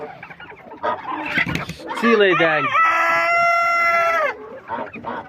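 In a poultry yard, chickens cluck and a rooster lets out one long, loud crow close by. A voice speaks briefly at the start and end.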